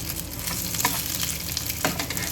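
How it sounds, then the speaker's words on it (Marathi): Brinjal slices frying in oil in a pan, a steady loud sizzle throughout with brief scraping clinks as the slices are flipped. "सर्व कापांवर थोडं थोडं तेल टाकून घेणार आहोत आणि आता हे आपण पलटवून घेऊया"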